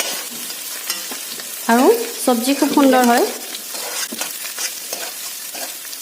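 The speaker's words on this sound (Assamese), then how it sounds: "এইদৰে ভেন্দিখিনি ভাজি পেলাই উলিয়াই ল'ম।" Okra (lady's finger) frying in oil in a kadai gives a steady, close sizzle with occasional stirring, while someone talks over it for a couple of seconds midway.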